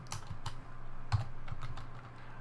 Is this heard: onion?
no